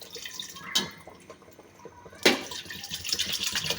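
Water from a glass splashes into a pot of chicken shorba in two distinct pours, each a sharp burst followed by gurgling and dripping liquid close by.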